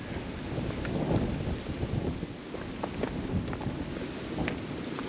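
Gusty wind sweeps across the coastal road above Bouley Bay in Jersey, buffeting close to the microphone in a continuous rough roar with small surging peaks.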